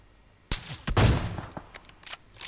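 Gunfire from the video game PUBG Mobile: a sharp shot, then a dense burst of rapid shots, followed by a few scattered lighter cracks, close and loud with no talk over it.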